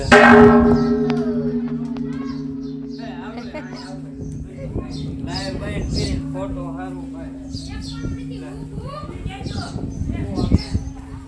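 A temple bell strikes near the start and its deep ringing tone hangs on, slowly fading, while people talk over it.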